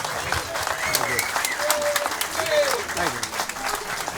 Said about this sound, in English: let's give a round of applause to Dick Shappy for putting this show on again.